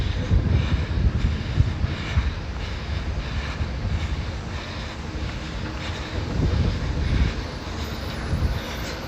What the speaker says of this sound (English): monorail just above us